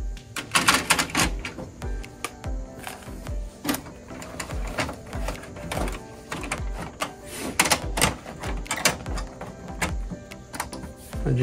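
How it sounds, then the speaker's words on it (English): Paper tray being pulled open on an HP LaserJet Pro 4001n laser printer, giving a run of close, sharp plastic clicks and clacks with sliding scrapes, irregular and fairly loud, with no talking. "We're gonna go and open up the paper tray right here."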